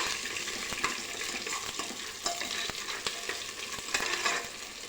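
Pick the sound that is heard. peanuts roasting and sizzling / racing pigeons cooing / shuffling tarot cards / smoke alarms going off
peanuts roasting and sizzling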